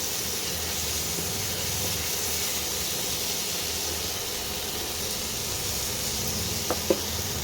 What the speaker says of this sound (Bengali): এইবারে ভালো করে মশলাটাকে কষাতে হবে